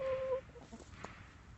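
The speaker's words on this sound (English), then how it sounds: "This is a Buff Orpington." A Buff Orpington chicken gives a short tonal cluck followed by a few soft, scattered clucking notes, close and fairly quiet.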